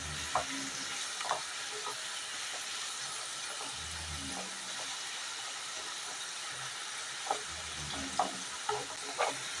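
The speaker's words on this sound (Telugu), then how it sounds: "సాల్ట్ వేయకుండా ఫ్రై చేసుకోండి" Potato pieces frying in oil with no salt added for aloo fry, a steady close sizzle with occasional stirring scrapes and clinks, no voices.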